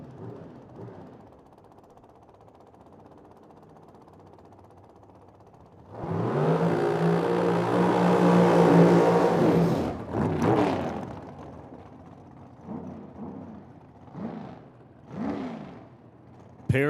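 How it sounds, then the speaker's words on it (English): A pair of dragster race cars at a Medicine Hat, Alberta drag strip during bracket racing roar loudly for about four seconds in one broad blast, then fade, followed by scattered shorter engine bursts and revs. "Oh, I hear race cars."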